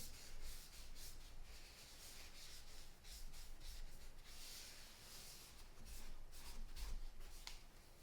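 Large cotton rounds used like sponges wipe product off facial skin in a soft, steady rubbing and swishing, close and quiet, with no voices.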